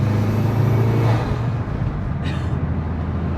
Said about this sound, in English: just listening to that whooshing and that popping